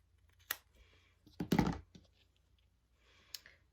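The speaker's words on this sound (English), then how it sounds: "I'm just going to go ahead and cut this off" Scissors cut through a fabric band for a sports bra in a few close, crisp snips, the loudest cluster midway, with short quiet gaps between cuts.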